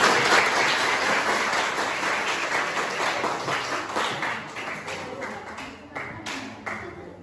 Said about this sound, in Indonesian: Oke, beri tepuk tangan dulu ya sebelah lagi.